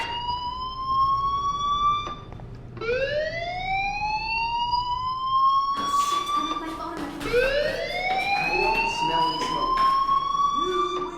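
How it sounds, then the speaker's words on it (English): A loud fire alarm in the video game Life is Strange wails in repeated rising sweeps, each tone climbing upward before restarting, sounding continuously and close. "do you hear that fire alarm? That means you should be outside."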